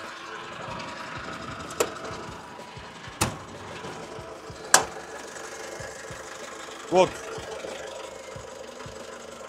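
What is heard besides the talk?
mini loader motor running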